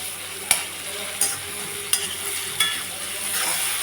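Onions and tomatoes sauté in a pan for mutton potato curry, with a moderate ongoing sizzle punctuated by four or five sharp spatula scrapes at regular intervals; no talking.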